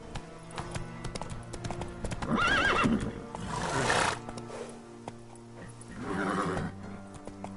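Roach, the horse in the video game The Witcher 3, neighs twice amid a steady clip-clop of trotting hooves, with a drawn-out whinny near the start and a shorter one toward the end.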